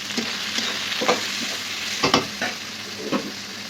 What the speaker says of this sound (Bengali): এবার টমেটো হলুদ আর লবণ দিয়ে একটু ভেজে নেবো